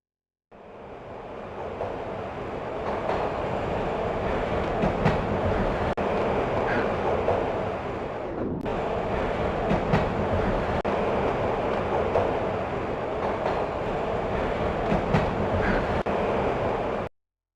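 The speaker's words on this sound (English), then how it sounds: "This was my second train ride of the night." Continuous train ride in the Max Payne video game, a loud steady rumble of rail cars with faint rhythmic clatter, running without a break apart from one brief dip midway.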